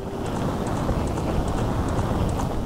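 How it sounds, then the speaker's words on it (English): Galloping horse hooves of Ganondorf's mount in The Legend of Zelda: Ocarina of Time, a steady quick clip-clop rhythm with a brief soft whoosh of wind, moderately loud and continuous throughout. "There's Ganondorf on his horse."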